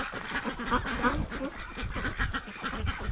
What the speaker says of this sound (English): The ducks eat absolutely everything, even the dust.